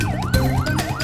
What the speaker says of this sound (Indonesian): Sambil meraung-raung menyalakan sirine,